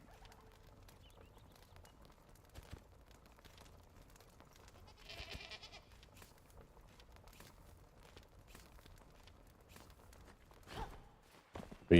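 Goats in the game Enshrouded give faint, scattered bleats over quiet ambient noise, with soft footstep-like rustles and a brief higher tone partway through.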